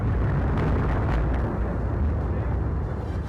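An Iranian missile strike explodes, a loud sustained roaring rumble that stays dense and heavy from start to finish with no voices over it.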